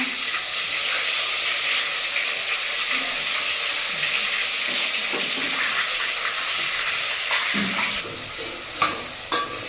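Coconut, ginger and garlic masala roasting in oil in a pan, a loud steady sizzle with stirring scrapes that thin out into a few sharp clinks near the end.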